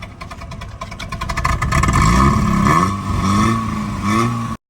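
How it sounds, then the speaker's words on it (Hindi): Engine of a 1976 Toyota Corolla in clean, genuine condition, cranking and then catching, followed by smooth rising and falling revs that stay loud and near until an abrupt cut. "यार इतनी प्यारी आवाज़ है ना इस गाड़ी की, बिल्कुल स्मूथ आवाज़"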